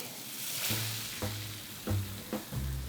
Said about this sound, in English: I'm going to push everything over to the side and add in my egg.